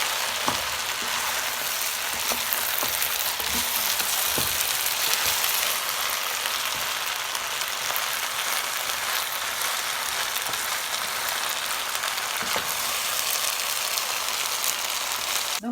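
Chicken pilau frying in samli gives a steady, dense sizzle throughout, close and moderately loud, with faint scraping and knocks from stirring scattered through it.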